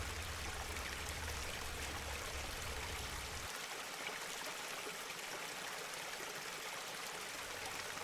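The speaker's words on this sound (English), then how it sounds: "hearing the sounds of water rushing by in the middle of complete tranquility" Continuous broadband rush of water flowing in a stream along the Ebbw Fach Trail, steady and fairly close, with a low rumble that drops away partway through.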